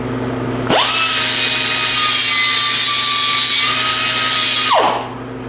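A power cutting tool slicing off a metal stud on a Kubota BX25D tractor: one sustained high whine that spins up sharply, holds steady and loud for about four seconds, then winds down.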